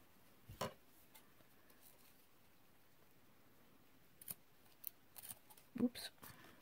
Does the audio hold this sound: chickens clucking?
no